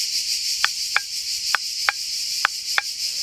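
A jam jar lid used as a model of a cicada's cymbal, flexed by a finger to imitate cicada song, gives six sharp clicks in pairs against a steady high hiss, with no talking.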